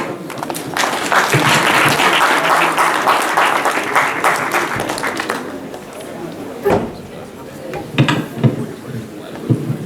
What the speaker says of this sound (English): Please, a round of applause as he makes his way away